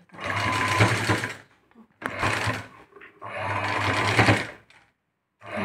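Sewing machine stitching pleats on a frill blouse back neck, running in two long loud bursts with short pauses between, close and steady with no talking.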